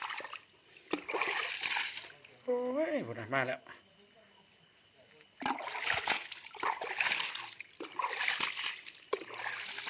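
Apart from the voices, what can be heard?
catfish splashing water while feeding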